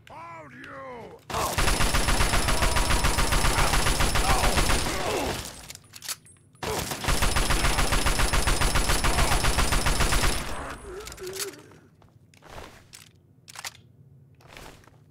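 Rapid automatic gunfire in Fallout 3, two long sustained bursts of fast repeating shots, loud and close, followed by a quieter stretch of scattered clicks and sharp single cracks.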